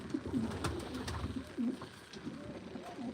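Pigeons coo repeatedly at a live pigeon auction, soft throaty rolling calls from several birds close by over a quiet indoor murmur, rising and falling in short overlapping phrases.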